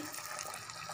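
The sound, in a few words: tamarind juice being poured into the pan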